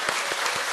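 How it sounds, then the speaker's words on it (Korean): A church congregation claps together during a Sunday worship service, a brief burst of dense, close applause with no voices over it. "우리 한번 남신도들을 격려하고 응원하는 의미에서 우리 한번 박수로 한번"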